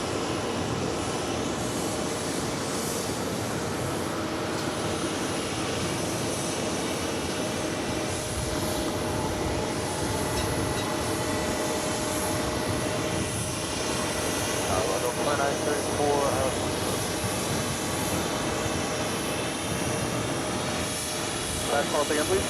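A Virgin Airbus A350-1000 bound for London Heathrow takes off from New York JFK, producing a sustained broadband jet roar from some distance that swells slightly toward the end, with a voice talking over it.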